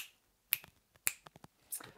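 Crisp finger snaps keep time for a Pink Panther saxophone piece: three sharp, close snaps spaced at a loose, even pulse, with softer ticks and clicks between them and nothing else around.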